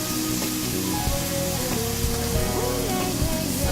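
Salmon fillet sears in a hot pan over medium to medium-high flame, a steady close broadband sizzle running evenly throughout with faint tonal background sounds layered underneath.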